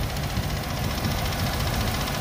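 A 2005 Ford Explorer Sport Trac's 4.0 liter V6 idles with a steady, even low rumble and light mechanical vibration, close up and with no talking.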